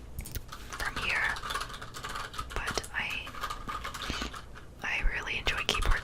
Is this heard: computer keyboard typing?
yes